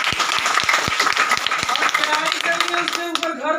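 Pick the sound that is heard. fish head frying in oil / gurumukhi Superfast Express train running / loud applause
loud applause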